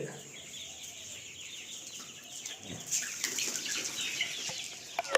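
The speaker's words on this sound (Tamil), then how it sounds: "இது நாட்டுக்கோழி" Native country chickens clucking and calling in a farmyard near a forest area, with some wing flapping and rustling, fairly close, growing busier toward the end.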